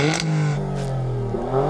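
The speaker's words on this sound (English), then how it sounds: "rev up the Alfa" An Alfa Romeo SUV engine revs up with a rising, throaty roar, then holds a steady, loud drone before climbing again near the end.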